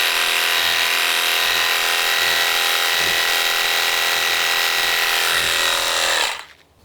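Pressure washer spraying through a 15 degree nozzle, a steady loud broadband hiss with engine drone beneath that holds continuously and then cuts off abruptly near the end.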